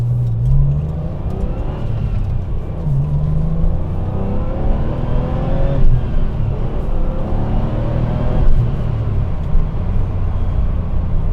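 A 1997 Porsche 993 Turbo accelerating on the road, heard from inside the cabin as a loud, steady engine roar with rising tones and a continuous rumble throughout, no talking.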